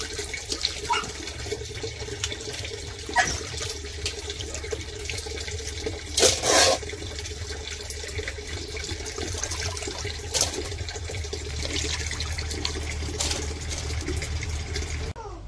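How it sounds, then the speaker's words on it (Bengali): Tap water running steadily into a sink while freshly cut fish is rinsed, a continuous splashing wash with a few brief louder clatters and splashes. "তো আমার মাছ কাটা শেষ মাছ কাটা ধুয়ে নিলাম"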